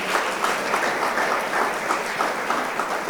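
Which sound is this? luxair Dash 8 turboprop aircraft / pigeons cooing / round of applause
round of applause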